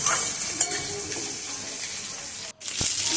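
Kashmiri red chili powder sizzles in hot oil in a wok, a steady hissing crackle with a brief gap and a small clink near the end.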